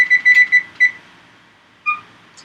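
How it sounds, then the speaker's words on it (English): A kitchen timer beeps in a quick string of bright, loud electronic chirps, pauses, then gives one more short beep, close and alone in a quiet kitchen. "And I like to set my timer."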